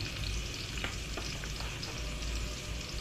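Onions sizzle steadily in a frying pan, a dense continuous hiss with a few faint stirring clicks, close and fairly quiet, with no voices.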